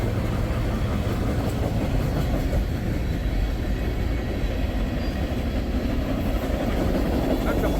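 A Norfolk Southern freight train rolls past on the Cleveland division, its steady, loud rumble and rhythmic rail clatter continuing unbroken throughout at close range.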